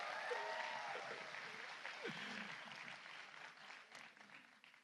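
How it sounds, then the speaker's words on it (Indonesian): A crowd of young audience members claps at a 25 Years of Reformasi gathering, the soft, distant applause tapering off under a comedian's voice. "tepuk tangan buat anak muda"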